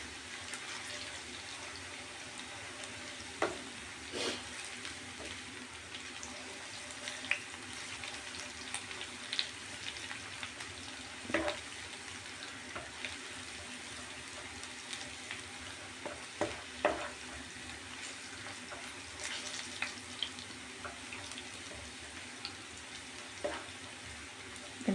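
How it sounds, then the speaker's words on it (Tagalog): Garlic frying in a pan for beef picadillo, a steady soft sizzle with occasional stirring clinks and scrapes, close and continuous with no talking. "Papulahin lang natin yung ating garlic."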